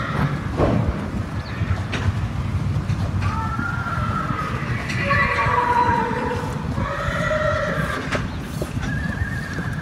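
At a horse auction, a horse lets out a long, rising and falling whinny, moderately distant over steady crowd and hall noise, with faint voices in the background.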